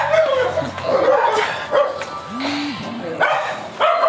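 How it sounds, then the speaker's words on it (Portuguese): Several dogs bark and yip in a busy outdoor spot crowded with people, sharp repeated barks and a whimper cutting through steady crowd chatter and a voice. "cachorros latindo todo tempo"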